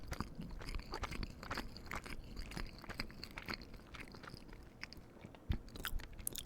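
Lettuce in a Taco Bell crunchy taco crunches between the teeth, a close, quiet run of crisp bites and chewing clicks repeating steadily, with no talking over it.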